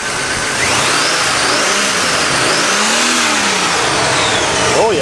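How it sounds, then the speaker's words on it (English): A cold old Cheviac car engine with a new water pump is revved hard up close, a loud continuous roar whose pitch rises and falls with the throttle and briefly drops near the end; no one talks. "Oh, you revved her too hard for an old car."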